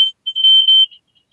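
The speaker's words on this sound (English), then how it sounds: "I'm assuming you can hear my smoke alarm going off." A household smoke alarm sounds a few short, loud, shrill electronic beeps close by, then goes quiet.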